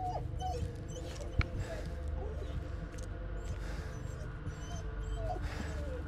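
A dog in the horror game Blair Witch whimpers softly over a steady low ambient drone. Thin whines recur through the scene, with one brief sharp knock early on and muffled speech faintly underneath.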